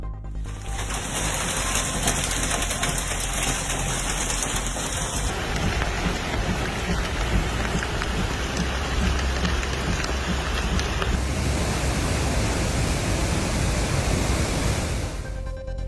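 Heavy rain from a storm near Halifax, Nova Scotia pours down in a steady, dense roar that continues unbroken throughout, with no voices.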